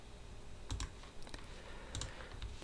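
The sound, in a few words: computer clicks pressing the print button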